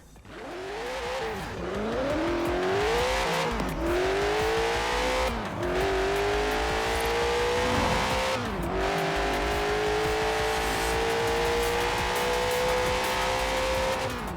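Noble M600 engine in the Forza racing game, revving loud and close through repeated gear changes, with rising pitch sweeps broken by brief shift dips and some tire squeal.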